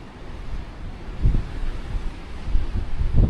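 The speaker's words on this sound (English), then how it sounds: "I mean, it's slightly breezy today," Breezy coastal wind gusting around castle ruins at Cruden Bay, Aberdeenshire, a steady low rumble of buffeting with stronger gusts swelling about halfway through and again near the end, with no talk.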